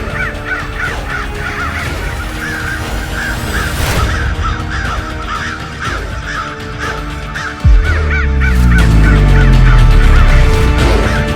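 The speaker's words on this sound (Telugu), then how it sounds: "భూగర్భ గుహలో భయంకరమైన కాకులు ఉంటాయి. అవి ఆదమరిచి ఉంటే కళ్ళు పీకేస్తాయి." Menacing crows in an underground cave caw and gobble in a loud, rapid, repeating series, cut by a sharp thump, followed by a deep swelling rumble beneath the continuing calls.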